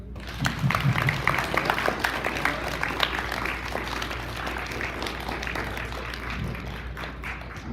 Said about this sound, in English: Can we give the parents a round of applause real quick?